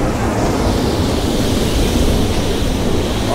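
Heavy ocean surf pounds into a sea cave, with white water pouring down in curtains; a loud, continuous broadband roar of crashing waves and wind holds steady throughout, with no voices.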